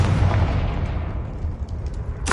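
Confringo fire spell blast in Hogwarts Legacy, a loud booming burst with a rumbling, crackling tail and a sharp crack at the end.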